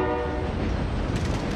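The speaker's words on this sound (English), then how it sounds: "we're gonna take the train to this bus station right there" A train in a video game rumbles past loud and close, its steady broadband roar carrying a held horn-like tone, with no voices over it.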